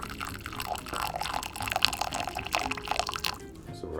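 Homebrew beer being poured into bottles: a steady, close liquid pour with gurgles and drips, continuous for most of the stretch and easing off near the end, with no talking.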